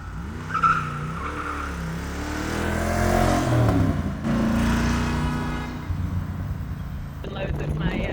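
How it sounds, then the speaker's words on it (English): A 1995 Corvette, rear-wheel drive with positive traction, spins its rear wheels with a rising engine roar and tire squeal. Voices talk over the car throughout. "If you really want to have fun driving, you just need a rear-wheel drive car with positive traction and enough power to spin those rear wheels."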